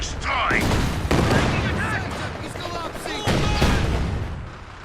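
Dense artillery barrage in the World War II strategy game Company of Heroes 2, a loud continuous wash of booms and rapid gunfire with a voice talking over it throughout.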